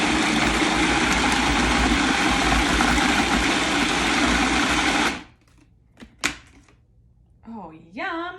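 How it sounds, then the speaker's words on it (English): Blender whirring loudly and steadily as it purees charoset, running for about five seconds before cutting off, followed by a few clinks and a voice talking. "Let's blend a little more of that."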